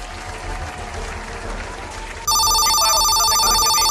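A telephone ringing after a call is placed: a loud, sustained electronic ring cuts in suddenly over a noisy background and continues to the end.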